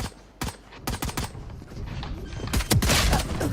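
Several sharp gunshots from a Valorant match crack out in short clusters, fairly close, with quieter ambient game sounds between them.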